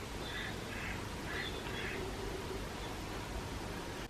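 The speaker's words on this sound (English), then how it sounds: "Can you hear the ducks?" Ducks give a few faint quacks, spaced in short bursts over a steady background hiss, distant and quiet with no talking.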